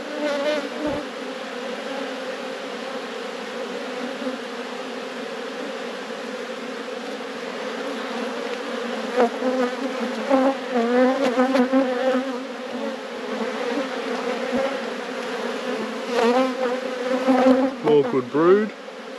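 Honeybees robbing an open hive fill the air with a dense, continuous buzz that swells near the end, with a brief spoken voice partway through.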